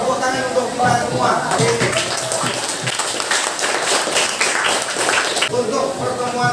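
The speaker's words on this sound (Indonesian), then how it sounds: "Tepuk tangan untuk kita semua." A classroom of students claps at the end of a physics discussion on heat transfer, a burst of mixed hand claps rising after a moment of voices and continuing under chatter, fairly loud and near.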